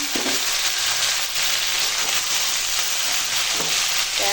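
Pumpkin, papaya, snake gourd and Malabar spinach fry in hot oil with ginger and garlic, a steady close, loud sizzle broken by a few soft stirring scrapes, with no voices.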